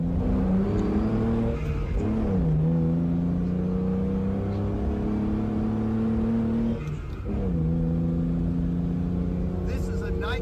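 Bugatti go-kart driven along a bumpy path, its engine holding a steady buzzing note that rises and falls with two revs, close and loud, with voices talking over it.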